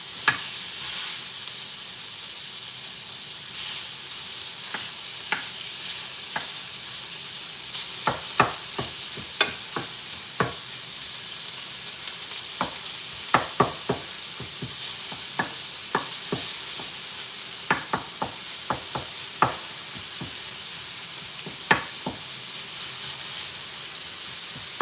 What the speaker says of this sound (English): I like to cook it quite low so the minced beef stays sort of soft.